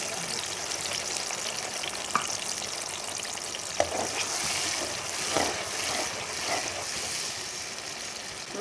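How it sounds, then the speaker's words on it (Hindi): Masala spices sizzle and fry in hot oil for a yogurt chicken curry, a steady close crackle with occasional stirring clinks and scrapes, no voice. "ऑयल गर्म हो चुका है। अब इसमें मसाला शामिल कर देते हैं।"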